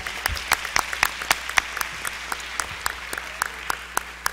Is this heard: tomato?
no